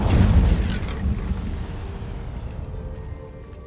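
An Incendio fire spell cast in Hogwarts Legacy gives a sudden whooshing burst of flame, loudest at the start, then fades into a low, rumbling tail.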